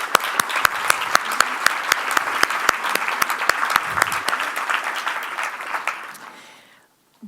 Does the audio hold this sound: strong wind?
no